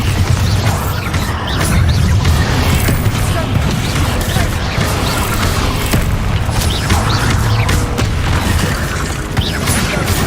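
Bombarda spell explosions in the game Hogwarts Legacy: dense, continuous booming blasts and crashing impacts layered over a rumbling low end, loud throughout.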